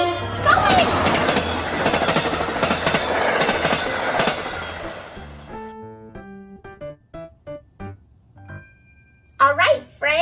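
A train passes on rails with a loud rumbling clatter for several seconds, then fades out, followed by short chimes and effects.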